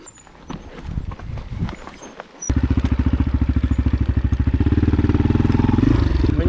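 A KOVI enduro motorcycle turns around on a rocky Carpathian mountain trail: after some scraping and clatter over stones, the engine starts up close and loud, thumping in a fast, rapid pulse that builds slightly toward the end.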